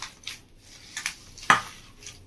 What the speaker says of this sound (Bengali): ভালো করে এবার এভাবে মেখে নেবো।